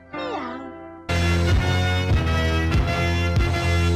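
A cat's drawn-out meow for a Meow Mix commercial rises and falls, followed by a loud jingle with rhythmic meow-like sung notes, close and full.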